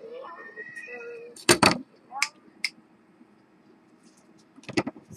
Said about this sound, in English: when the cat makes that particular noise, that means leave me alone.